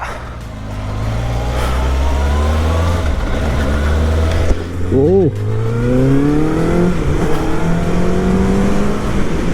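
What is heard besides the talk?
Kawasaki ZX-6R superbike engine revving during test ride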